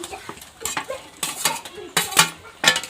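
Pieces of fish go into a pan for a Bengali fish curry. Several close, sharp clattering bursts arrive in an uneven rhythm, with quiet gaps between them.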